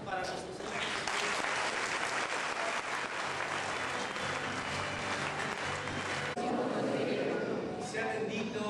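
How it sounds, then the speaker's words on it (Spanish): A church congregation claps together in dense, continuous applause, with voices mixed in beneath the clapping and a brief shift in texture near the end. "Un aplauso para nuestros hijos."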